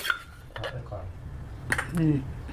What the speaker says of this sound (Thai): เราก็ตักออกมาใส่ถ้วยไว้